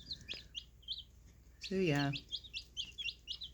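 Young chicks chirp in a string of short, high peeps close by, with a brief spoken remark in the middle.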